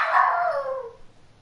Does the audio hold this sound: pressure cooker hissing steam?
no